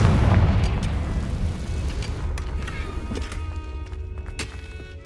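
A Confringo fire spell in Hogwarts Legacy bursts with a heavy, close boom, then rumbles and crackles as it fades over several seconds.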